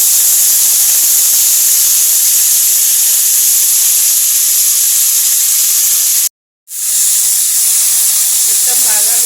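Garlic and fenugreek leaves fry in a hot pan with a loud, continuous sizzling hiss that cuts out for a moment before resuming just as strong.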